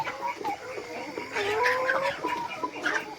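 Chickens clucking in a coop at a rural farm where eggs are collected, several close calls and rising squawks in a busy, continuous cluster with little else around them.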